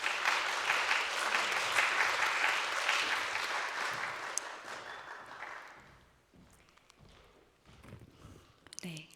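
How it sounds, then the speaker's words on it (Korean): A church congregation at a Sunday worship service applauds in a loud, dense burst welcoming the preacher, then the clapping thins and fades out over the final seconds. "우리 전도사님 나오실 때 큰 박수로 우리 환영하도록 하겠습니다."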